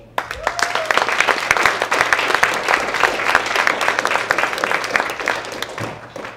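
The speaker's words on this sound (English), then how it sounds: "Can we get a round of applause for John Bush?" An audience applauds John Bush at a Dare to Go Zero initiative event, a full, dense round of clapping that holds steady for several seconds before tapering off near the end, with faint voices beneath.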